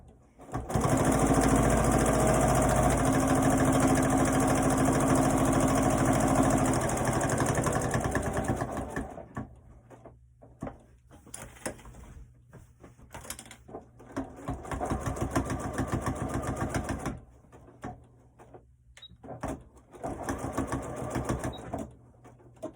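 Sewing machine stitching around the edge of a fabric pillow, a steady close mechanical whir for about nine seconds, then softer intermittent stitching bursts and handling noises.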